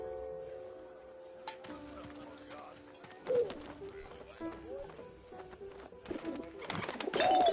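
A pigeon coos in a video game, with soft bird calls and scuffling over a quiet game backdrop, while voices talk through much of the clip.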